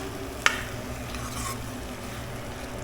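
Squid sukka stirred and mixed in a pan, with one sharp scrape of the utensil against the pan followed by a soft, steady sizzle and gentle mixing sounds, no voices.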